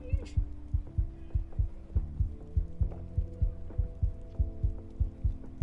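A video game heartbeat effect thumps in a steady, evenly spaced double-beat rhythm, close and prominent over sustained low musical tones.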